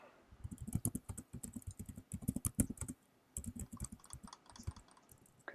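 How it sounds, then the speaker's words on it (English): Bursts of rapid typing on a computer keyboard, dense clattering keystrokes in several runs separated by short pauses, close and fairly loud with no voices. "Concerned at how much Dave and Catherine are typing"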